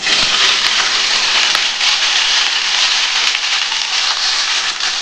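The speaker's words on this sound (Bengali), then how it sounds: "বন্ধুরা দেখো, তেলটা গরম হয়ে গেছে। এবার আমি কিন্তু ফুলকপিগুলো দিয়ে দিচ্ছি। প্রথমে ফুলকপিগুলো আমি ভেজে নেবো।" Cauliflower florets sizzle in hot oil in a pan for a Bengali potato and poppy-seed dish, a loud, dense, continuous crackling hiss that sounds close.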